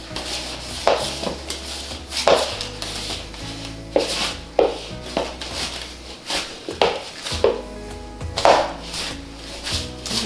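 Sourdough bread dough being mixed with a dough whisk, rhythmic close-up scraping and thudding strokes against the bowl repeating every second or two.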